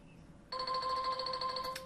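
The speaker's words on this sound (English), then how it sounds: "I should be able to hear ringing start on my tawk.to dashboard to let me know that somebody's trying to chat." A tawk.to chat dashboard notification sounds, a bright electronic ringing tone that begins abruptly and holds steady for over a second, clear and alone against a quiet background.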